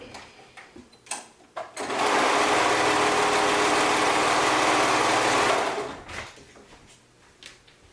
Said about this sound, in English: I'm going to just really quickly head over to my serger and sew this up right here